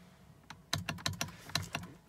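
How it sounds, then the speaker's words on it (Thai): A Honda Accord power window switch clicking repeatedly, about eight sharp plastic clicks in quick irregular pairs, close by and fairly quiet, while the window itself stays still and no motor whir is heard. "เสียงสวิตช์ดังแต่กระจกไม่ลงนะครับ"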